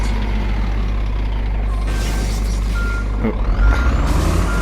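A Scania truck in a truck driving video game backs up, its reversing alarm beeping steadily over a low diesel idle, with an air brake hiss midway and a brief spoken exclamation.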